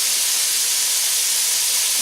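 Smoked gammon ham frying in a pan gives a steady, dense sizzle and hiss that holds evenly throughout, close and moderately loud, with no voices.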